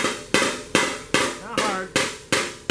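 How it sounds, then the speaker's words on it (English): Sharp metallic hammer strikes land on a Dodge fender's sheet metal, hammering off a dolly at a steady pace, seven ringing blows close up with a bright, clanging tone. "I'm going to dolly off, hammer off the dolly"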